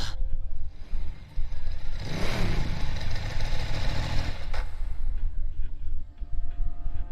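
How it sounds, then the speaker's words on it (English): A large motorcycle engine idles and rumbles steadily in Persona 3 Portable, a continuous low, throaty drone with a brief swell of revving near the middle, heard alone without voices. "A large motorcycle is parked in front of you."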